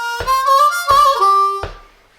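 Played a bit quicker, the harmonica lick comes as three clipped reedy bursts with a bend, close and bright, no voices, trailing off quickly.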